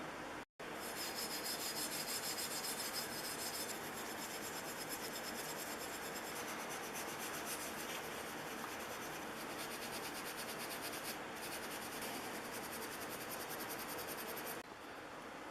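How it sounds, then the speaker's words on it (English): Fine 4/0 steel wool rubs over the japanned finish of a Stanley No. 35 Type 3 plane, giving a continuous close scratchy rasping scrub that carries on steadily with only a brief gap near the start. "I'm going to go over the Japanning with some 4/0 steel wool and just clean it up just a little bit"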